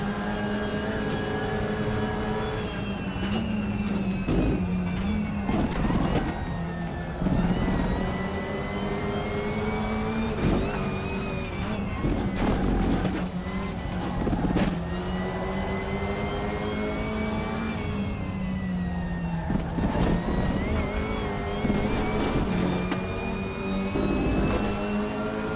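A front-wheel drive WTCR touring race car laps the Nurburgring in RaceRoom, its engine loud and close, revving up through the gears in repeated rising whines broken by sharp shift drops and throttle lifts.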